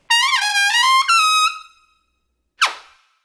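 Trumpet sounding a cha articulation: a sustained bright brassy tone with a pitch bend lasting about a second and a half, then after a pause one short, sharp accented burst that decays quickly.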